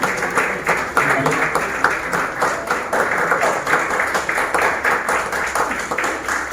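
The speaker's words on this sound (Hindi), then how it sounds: "ऐसे हमारे जिग्नेश सर के जोरदार ताली बजाइए।" Steady applause from a seminar audience, dense clapping holding at an even level throughout with faint voices mixed in.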